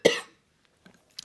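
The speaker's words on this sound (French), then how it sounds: "dans à peu près chaque épisode, il y a un moment où je vais tousser" A single sharp cough from a French speaker, close and loud, followed by quiet breaths.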